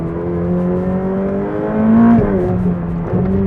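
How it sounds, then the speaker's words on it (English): A Ferrari 488 Pista on an aluminum space frame pulls hard from inside the cabin, its engine note climbing steadily before an instant gear change drops the pitch, then rising again, loud and close with no talk. "Oh wow, the gear changes are instant."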